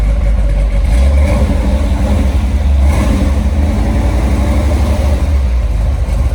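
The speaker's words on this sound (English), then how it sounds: "You can hear that motor a little bit. Maybe a little bit of wrist pin noise." A 1970 Plymouth Cuda with a Hemi V8 and five-speed runs close by, a steady, loud, rumbling idle with a faint mechanical tick, alone and without talk.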